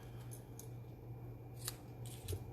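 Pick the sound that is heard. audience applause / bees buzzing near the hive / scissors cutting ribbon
scissors cutting ribbon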